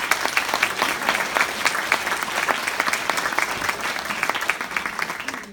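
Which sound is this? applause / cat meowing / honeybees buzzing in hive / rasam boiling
applause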